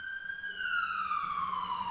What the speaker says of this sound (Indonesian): kalian dengar sirene ambulan enggak teman-teman?